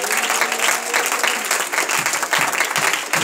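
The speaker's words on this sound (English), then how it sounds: "Let's clap our hands to the Lord." A church congregation claps its hands together in worship, many hands striking in a lively, roughly rhythmic pattern that stays close and steady for a few seconds without speech.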